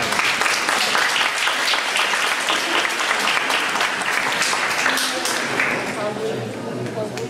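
Sustained, dense applause from an audience after an evening lecture, loud and steady throughout, with a few voices faintly mixed in before it thins slightly at the end.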